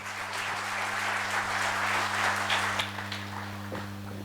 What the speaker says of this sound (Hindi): एक बार ज़ोरदार तालियां हमारे आईपीएस सर के लिए।